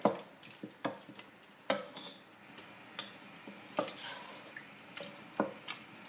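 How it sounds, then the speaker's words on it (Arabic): Tomato and harissa frying in oil for a lentil and beef stew, with a soft continuous sizzle broken by intermittent sharp clicks and taps of a utensil against the pot, close and fairly quiet. "نحلها كما تشوفوا الطماطم والهريسة نحلهم في الزيت، خليهم يتقليو."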